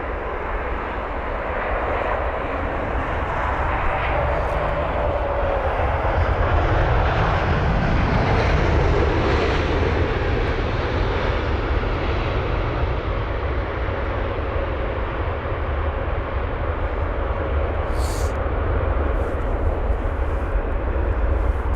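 A Kenya Airways airliner touching down gives off a loud, continuous engine roar with a gentle swell in the middle as it passes and slows, alone without talk.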